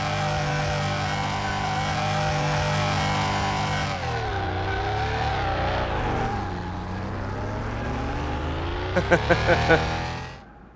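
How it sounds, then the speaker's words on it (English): A Volkswagen Bug police car in Car Mechanic Simulator 21 drifts and spins donuts. Its engine drones steadily, dips and swoops in pitch as it slides, and ends with a few sharp pops before cutting off. "It does donuts pretty good"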